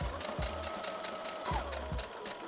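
A sewing machine stitches down the seam of a waistband on pants being remade into a mini skirt, giving a quiet, close, rapid mechanical whirring chatter with a few short stops and restarts.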